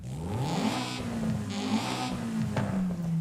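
An inline four-cylinder car engine in Forza revs up repeatedly in short bursts, pitch climbing and falling, with a whirring, game-like tone and nobody speaking.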